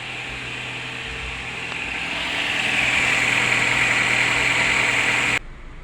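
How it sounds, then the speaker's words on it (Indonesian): Cold Nissan X-Trail T30 engine, which has a tok-tok-tok fault, idling at about 1500 RPM: a steady, close hum with a slight rise partway through and an even, continuous tone that drops off abruptly near the end. "Untuk mesinnya sudah hidup ya. RPM di 1500."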